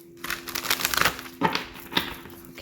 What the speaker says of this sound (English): I'm trying to get a good shuffle to make it fair